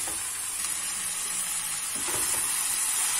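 Cauliflower and minced meat sizzle and fry in a pan, a steady close hiss with a few soft stirring scrapes toward the end.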